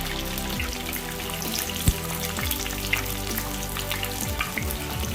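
Garlic sautéing in sesame oil for a lentil-dumpling kuzhambu, a steady, close crackling sizzle with fine popping spatters and an occasional sharp tick of a utensil against the pan.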